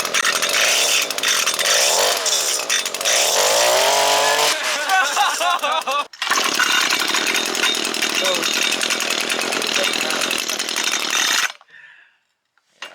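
A small mini bike engine runs loud and close, revving and buzzing with rising and falling pitch, then cutting briefly before roaring steadily again and stopping near the end.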